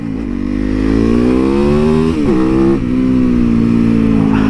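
A street motorcycle engine revs loud and close, its throaty drone climbing steadily in pitch as it accelerates, with a short dip midway before pulling on.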